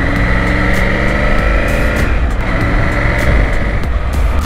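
A Triumph Tiger 900 motorcycle rides through the streets of Old Manali after a chain lube, its engine droning loud and close in a steady, continuous hum with slight shifts in pitch and no talking.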